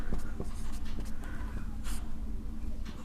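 Marker or chalk writing out a binomial expansion on a classroom board, with steady scratchy strokes running throughout, close and fairly loud with no talk.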